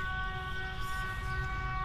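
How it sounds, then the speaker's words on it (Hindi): A sustained, steady train horn tone holds throughout over a low rumbling background, sounding somewhat distant, in Peshawar. "उसका सायरन हो रहा है ट्रेन का"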